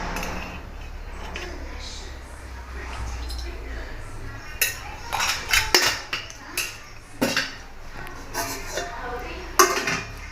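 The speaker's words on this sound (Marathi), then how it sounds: "तडक्यासाठी मी इथं कढई ठेवली आहे" A metal kadhai is set on a kitchen stove for a tempering of oil, giving a scattered series of light metallic clinks and knocks over a quiet room background.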